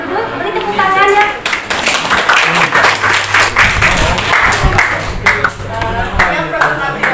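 A group in a school chemistry class claps together loudly, irregular hand claps building into applause, with children's voices chattering over it.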